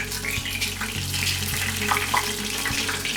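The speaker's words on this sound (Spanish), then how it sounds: "Y lo que estamos es friendo los camarones" Shrimp frying in oil in a home kitchen, a continuous hissing sizzle with scattered crackles and pops, plus a few dull thumps of pan or utensil, near and moderately loud with no talking.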